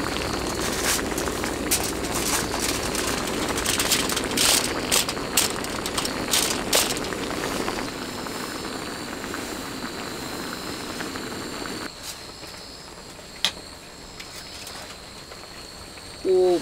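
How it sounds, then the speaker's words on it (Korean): Braised cutlassfish and potatoes simmer in a pot, producing a dense, steady bubbling hiss with rapid popping for about twelve seconds before it quiets to a softer, fainter bubbling. "이게 이런 게 좀 끓는 거지"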